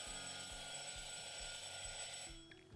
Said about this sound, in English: It's my cheese timer.